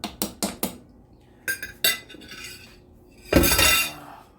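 Chicken breast going into a pot of ackee simmering in coconut milk, with several sharp metal clinks of utensil against pot followed by a louder, sustained splashing burst near the end, close by and without talk.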